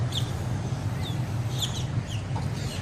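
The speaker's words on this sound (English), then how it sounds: "Look at all these birds, y'all." Chickens cluck and chirp repeatedly over a low, steady rumbling background, with several birds calling at once.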